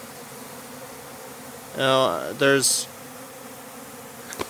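Honeybees swarm around a leaking bucket feeder set on a flat surface, a steady close buzz running throughout, with a brief burst of talk partway through.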